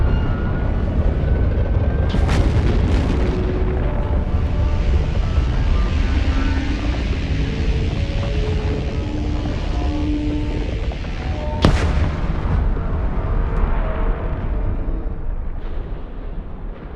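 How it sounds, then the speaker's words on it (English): A stargate explodes in the space game EVE Frontier: a long, heavy rumbling blast with deep booming low end, sharp cracks near the start and again midway, and tonal droning layered over the roar. "So this is the gate exploding."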